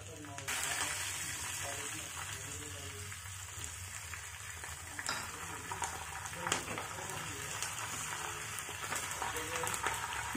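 Steady sizzling of curry leaves and garlic frying in hot oil, a continuous crackling hiss with a few soft knocks, close and fairly loud.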